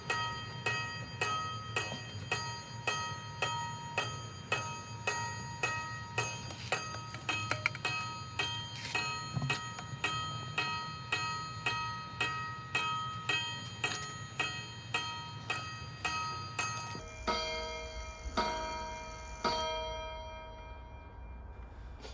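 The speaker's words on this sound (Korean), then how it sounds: "무려 52번이나 종을 치고 드디어 멈췄네요" An old pendulum wall clock over fifty years old, faulty and not stopping, strikes its bell again and again at a steady rhythm with ringing overtones, then falls silent near the end.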